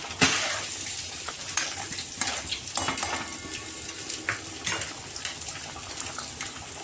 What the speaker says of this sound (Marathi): बघा तर ग्रेव्ही मस्त शिजते. थोडंसं आपण हलवूया.